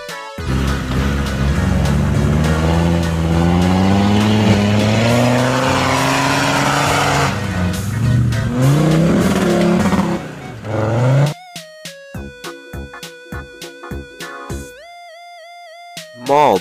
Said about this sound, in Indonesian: Mobil, jeep, off-road.